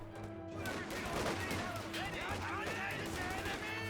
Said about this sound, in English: You can hear HMG firing away